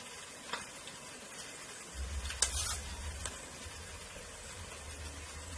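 Fresh curry leaves hit hot oil for a Kerala fish pickle, a soft hiss and sizzle swelling midway with a faint stir or utensil tap, quiet and close.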